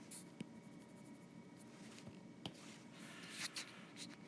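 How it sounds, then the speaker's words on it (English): An eraser rubs handwriting off a classroom board in a soft, continuous scrubbing with a few sharper taps and swipes, close and fairly quiet. "if I can erase this"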